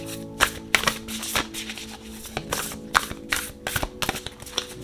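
Tarot cards are shuffled by hand in crisp, irregular riffles and taps, close and fairly quiet, with no talking.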